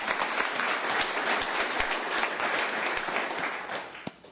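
Applause at a county commissioners court meeting: a room full of people clapping steadily for an employee's service milestone, dense and even, tapering off near the end.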